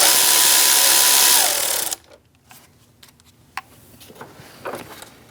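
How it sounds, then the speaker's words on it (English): A 10mm socket loosens the negative battery terminal nut on a 2000-2006 Mini Cooper: about two seconds of loud, steady mechanical whirring, then quiet with scattered close metallic clicks and taps. "Using a 10mm socket, we're going to remove our negative battery terminal by loosening up this nut."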